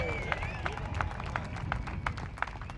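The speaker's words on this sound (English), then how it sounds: "Yeah, big cheer." Spectators at a KZ2 kart racing podium ceremony in Kristianstad, Sweden, clap and cheer, with quick rhythmic handclaps standing out over a steady murmur of crowd noise.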